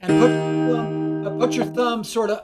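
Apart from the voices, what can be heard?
No everyday noises stand out.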